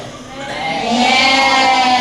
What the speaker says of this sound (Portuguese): Pessoal, a ovelha faz bé ou mé?